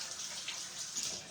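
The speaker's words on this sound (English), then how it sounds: "we're going to wash our hands" Hands are washed under a running kitchen tap, a soft steady stream of water splashing for a moment, quiet and close with no talk.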